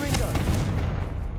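The Confringo spell blasting in Hogwarts Legacy: a loud, booming explosion with a deep rumble that fills the moment and then tails off slightly.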